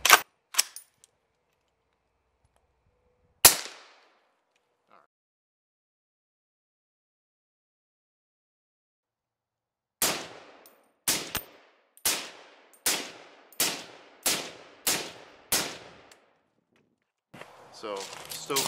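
A Midwest Industries MI-10F rifle fires outdoors, first two isolated sharp shots, then a rapid string of about eight evenly spaced loud cracks with short decays, followed by someone talking.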